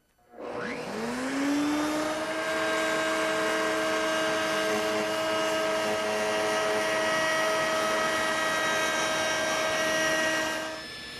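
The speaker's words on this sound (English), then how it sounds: "the cutters will go ahead and trim away that excess veneer and leave us a nice smooth cut" A router spins up with a rising whine and settles into a loud, steady high-pitched drone while trimming excess wood veneer flush on a small table with one drawer, running alone before winding down at the end.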